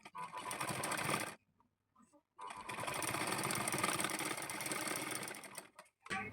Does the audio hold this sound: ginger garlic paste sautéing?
no